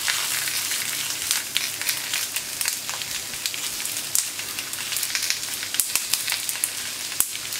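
Small peppers sizzle on a hot plancha, a steady close crackling hiss with scattered sharp pops throughout, no talking.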